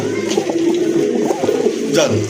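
A female pigeon coos at a bird market stall, the soft low cooing rising and falling close by, with a fainter call near the end and a busy background murmur.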